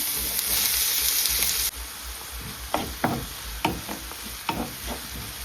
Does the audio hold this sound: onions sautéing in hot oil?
yes